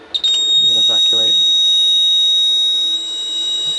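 A Kentec Syncro fire alarm panel sounds its evacuate alarm: a loud, steady, piercing electronic tone held unbroken throughout, with a brief burst of speech near the start.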